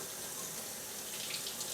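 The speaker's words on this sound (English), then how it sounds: "I'll put it under some cold water." A steady stream of cold faucet water runs over a glass bottle being prepared for cutting, producing an even, close splashing hiss throughout a short stretch without speech.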